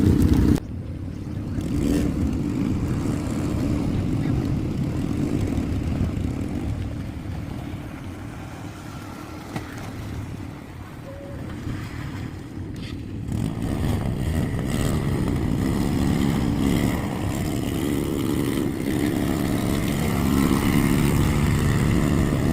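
An ATV engine runs steadily while riding through a river near Mayon volcano in Bicol, Philippines, a continuous close rumble with water wash and occasional surges, no talking.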